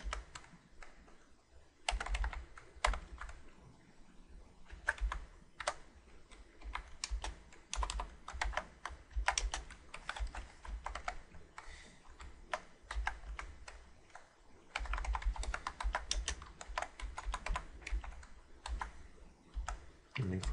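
Steady bursts of typing on a computer keyboard while writing HTML heading tags in Visual Studio, with close, fast key clicks in irregular runs and brief pauses, over a low background hum.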